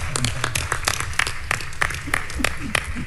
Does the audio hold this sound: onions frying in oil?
no